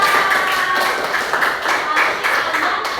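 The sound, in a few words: classroom students clapping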